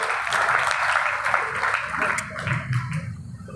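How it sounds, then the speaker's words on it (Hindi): An audience at a poetry recital claps in a loud, dense burst that thins and softens toward the end, with a few murmuring voices mixed in. "एक बार तालियां बजाइए"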